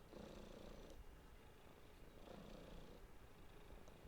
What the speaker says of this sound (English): I don't know if you hear his purring.